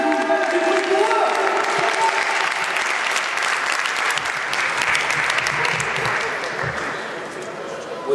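A live show audience applauds and cheers steadily, loud and close, the clapping dense and sustained for the whole stretch and easing only slightly toward the end.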